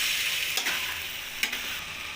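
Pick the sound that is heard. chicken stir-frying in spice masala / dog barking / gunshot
chicken stir-frying in spice masala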